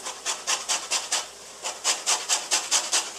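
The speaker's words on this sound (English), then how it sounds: "I'm going to take a lemon, and I'm going to get the little side of the grater." A lemon rubbed against the fine side of a kitchen grater to remove zest, a run of quick rhythmic rasping strokes, close and crisp, with a short pause midway before the scraping resumes.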